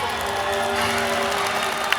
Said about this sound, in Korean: 이렇게 응원의 박수 부탁드리겠습니다